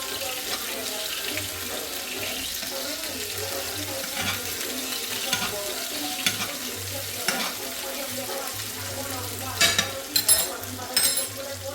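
Steaks being basted in a pan with thyme, a soft steady sizzle with clinks of a spoon against the pan, plus some running-water-like hiss. Quiet throughout, with a few louder scrapes near the end.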